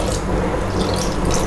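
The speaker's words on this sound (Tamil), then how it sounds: "3/4 டம்ளர் தண்ணி ஊற்றிருக்கேன்." Water pours into a pan of mutton in a continuous close splashing rush, loud and unbroken, with no voices over it.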